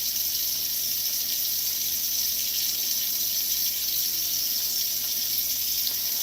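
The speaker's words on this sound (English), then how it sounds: "We'll let that water run. We're going to fill the sink up." Tap water runs steadily into a sink being filled to wash hog chitlins, a constant broadband rush with no break and no voices.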